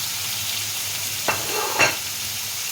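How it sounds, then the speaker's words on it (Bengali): Fried pumpkin and potato pieces with garam masala being stirred in a hot pan, a low steady sizzle broken by two brief stirring scrapes. "গরম মশলা এরপরে আগে থেকে ভেজে রাখা মিষ্টি কুমড়ো আলুগুলো"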